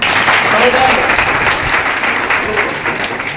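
A seminar audience claps for themselves in a loud, dense burst of applause lasting a few seconds, close and continuous with slight swells.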